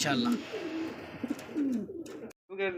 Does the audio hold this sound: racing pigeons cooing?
yes